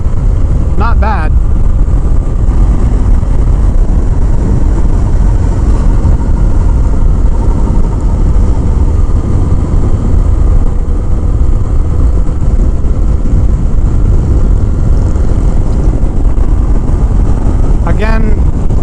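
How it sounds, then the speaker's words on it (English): Harley-Davidson Fat Bob motorcycle engine while riding, a loud, continuous low rumble mixed with wind rush that stays steady throughout, with brief speech at the start and end. "this is really my first time riding a full-fledged Harley Davidson."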